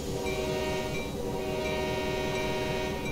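A diesel locomotive in Train Sim World on a Canadian line, throttle at notch 2 and brakes releasing, hums with a steady, loud engine drone and rail rumble, no voices.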